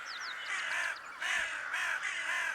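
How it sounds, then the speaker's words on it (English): Several crows caw repeatedly in harsh, rasping calls that come in quick overlapping bursts, fairly close and clear, with a few higher chirps mixed in early and no speech. "The crows."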